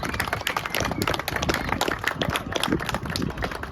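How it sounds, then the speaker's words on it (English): An outdoor audience at a steam locomotive 1395 dedication claps for live musicians, a sparse, uneven patter of individual hands, moderately close with no talk over it. "Want to give a round of applause to our wonderful musicians as well"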